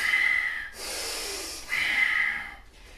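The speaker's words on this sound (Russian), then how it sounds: "кузнечные меха, дыхание, вдох" Bhastrika bellows breathing in a yoga breathing session: loud forceful nasal inhales and exhales alternate in a steady rhythm, close and breathy, with no talking over them.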